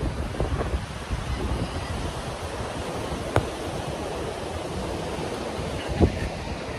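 Waves on Arambol beach in Goa at sunset: a continuous broad roar of surf mixed with wind buffeting the microphone, fairly steady and moderately loud, with a couple of brief sharp clicks and no speech.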